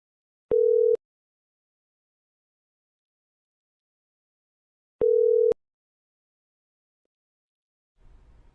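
Outgoing-call ringback tone on a telephone, two steady half-second beeps about four and a half seconds apart in near silence, followed by a faint rumble at the end.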